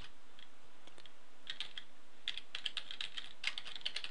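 Java code is typed on a computer keyboard in a steady run of close keystrokes that starts sparse and grows denser and slightly louder.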